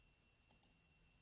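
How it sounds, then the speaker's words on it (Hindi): A computer mouse is clicked twice in quick succession, two crisp, faint, close clicks about a tenth of a second apart against a quiet background. "यहाँ पे मैं दोबारा क्लिक करता हूँ"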